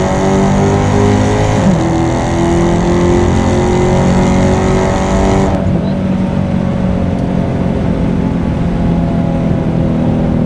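A Dodge Challenger Hellcat Redeye widebody accelerates hard with its wheels spinning, its engine a loud sustained howl that climbs in pitch, shifts, and roars on through a continuous pull with no talk.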